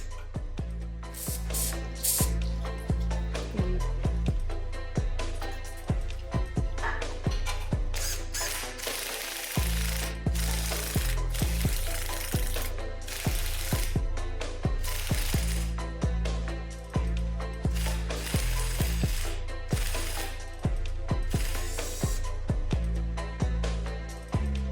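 A hand ratchet backing off an exhaust stud on a BMW E39 M5, rapid clicking bursts repeating in short rhythmic strokes with brief pauses between, close and fairly quiet, with no voices.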